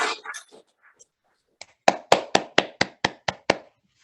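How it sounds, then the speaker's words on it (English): Audience clapping comes through an online connection: about eight crisp, evenly spaced hand claps in a steady rhythm, close and clear against silence, after a short burst of speech. "I did hear some clapping online"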